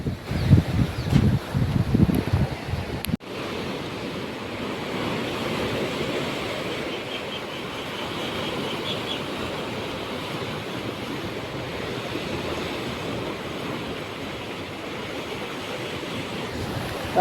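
Sea waves wash steadily onto the shore beside the seaside Bhabhata temple in a broad, continuous roar, preceded by a few seconds of louder rumbling and buffeting close to the microphone.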